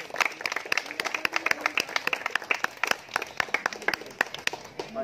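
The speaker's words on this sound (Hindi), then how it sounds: "तालियां तालियां।" Audience applause at a village tournament prize distribution held for 26 January, with a steady patter of clapping hands from a small crowd, sharp individual claps standing out, fairly close and continuous.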